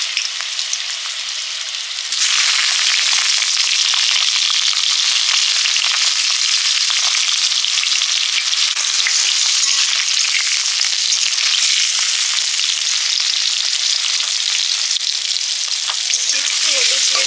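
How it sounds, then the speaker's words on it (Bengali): Eggplant slices fry in oil with a loud, steady, close-up sizzle that swells sharply after a quieter opening couple of seconds and then stays dense and unbroken, with faint stirring and no talk. "ভাজার পরে বেগুনগুলো ভেজে নিচ্ছি।"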